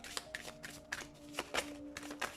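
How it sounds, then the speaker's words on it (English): Tarot cards are shuffled by hand in a quiet room, a string of crisp riffling snaps and soft taps at an uneven rhythm, close and fairly faint. "So let's start with the shuffling."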